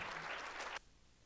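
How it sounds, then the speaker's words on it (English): Audience applause for a speaker at a college Africana institute event, a brief burst of dense clapping that cuts off abruptly after under a second, leaving quiet room tone. "Let's give her a round of applause"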